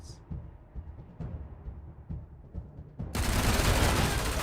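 Heavy weapons gunfire in the Wasteland 3 video game: after several seconds of quiet low thuds, a sudden loud, sustained roaring blast of fire takes over.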